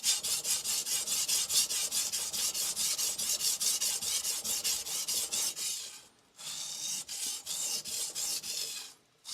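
An R.H. Forschner Victorinox chef knife having its bevel set on a Morihei whetstone, with rhythmic, close rasping strokes of steel on wet stone in a steady back-and-forth, pausing briefly twice.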